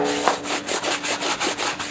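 A stiff brush scrubs foaming cleaner into a dirty tire crusted with grease, grime and dried concrete-like buildup, making rapid, rhythmic back-and-forth rubbing strokes, close and steady with no talking.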